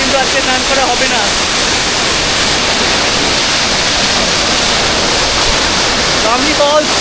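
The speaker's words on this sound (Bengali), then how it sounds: "বামনি ফলস তোমাদের দেখালাম" Bamni Falls in Purulia roars as a loud, dense, unbroken rush of falling water close by, with a voice faintly audible now and then beneath the constant wash.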